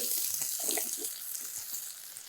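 Chopped onion and tomato frying in a pan with a soft, close sizzle and a few light stirring and utensil sounds, no voices.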